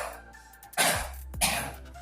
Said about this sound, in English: you will be coughing it with the ka sound